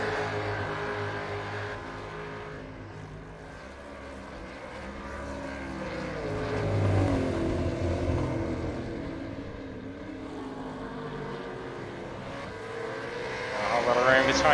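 Supercars race cars lapping Bathurst in the iRacing sim, engines droning and swelling as they pass, with rising and falling tones and a louder surge near the end, under a commentator's voice.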